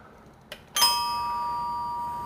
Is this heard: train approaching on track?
no